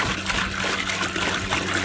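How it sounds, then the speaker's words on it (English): Blanching water from a batch of greens is tipped out of a cooking pot in a home kitchen during canning, a steady, close, splashing stream of pouring liquid with no voices. "I'm gonna empty out our blanching water and put some fresh water in there and get that boiling."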